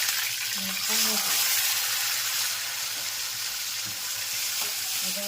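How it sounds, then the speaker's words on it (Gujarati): Mustard seeds, cumin, chilli and curry leaves crackle and sizzle in hot oil as tomatoes go in, a loud steady frying hiss with a few soft stirring knocks and brief murmurs of voice. "વઘાર થઈ જશે. જોઈ શકો છો."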